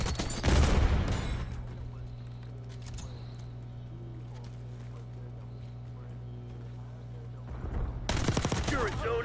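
Gunfire bursts from an online shooter game during an objective-capture match, louder at the start and again near the end, with a steady game hum between and bursts of voice chat over it.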